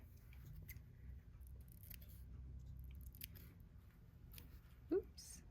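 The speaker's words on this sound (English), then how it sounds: "Let's trim off a couple threads here" Scissors trimming loose threads from a quilt sewing block, giving a handful of quiet, sparse snips spread across a hushed room, with one louder, crisper cut near the end.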